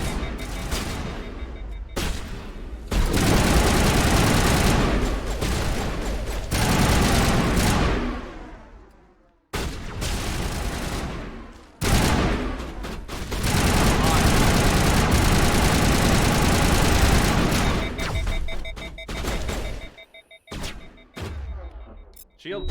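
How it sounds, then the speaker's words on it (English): Sci-fi weapon fire from the Mass Effect Legendary Edition trilogy, long loud bursts of rapid shots in two sustained barrages with brief gaps, heavy rumble beneath and voices talking over parts of it. "Wow, that takes a lot of shots."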